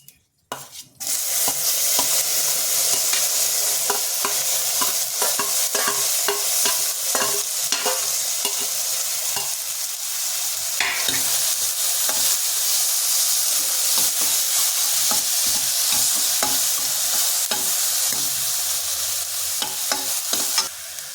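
Tomato, onion and capsicum with dried chilli and turmeric sizzling hard in a hot pan for a vegetable gojju, a dense continuous hiss broken by rapid scraping stirs, close and loud throughout.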